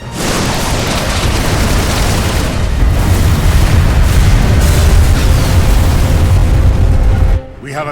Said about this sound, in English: Give word to the cannons.